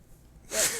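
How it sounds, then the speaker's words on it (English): A single short, sharp sneeze-like burst of breath after a moment of near silence, close and fairly loud. "I wasn't sure if that was a sneeze"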